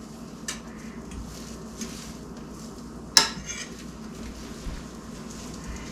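Freeze-dried eggs cook quietly in a pan with a soft, steady sizzle. Now and then a faint utensil scrape sounds, and one sharp clink of metal rings out near the middle.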